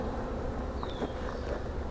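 Honeybees buzz steadily at close range as they are shaken off a hive frame during a queen installation, a dense continuous hum with no voices.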